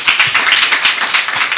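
An audience applauds at an event, a dense steady patter of many hands clapping close by with no pauses.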